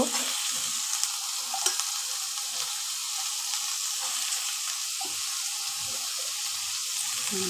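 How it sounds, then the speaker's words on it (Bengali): Potato and carrot pieces being stirred in a hot pan, a continuous bright sizzle with soft, frequent scraping taps of a spatula against the pan, close and even. "দিয়ে দিলাম আলু গাজরটা এবার নাড়াচাড়া করব আমি"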